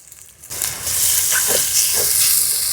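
Green chillies and garlic pieces hit hot oil in a frying pan with sliced onions, bursting into a loud, steady sizzle that holds at full strength after a quiet start.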